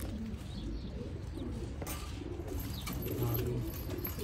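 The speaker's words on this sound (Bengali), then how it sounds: "কবুতর দেখেন" Teddy pigeons in an Oman loft give soft, low, repeated coos at close range. Other faint bird calls and light background noise sit beneath them.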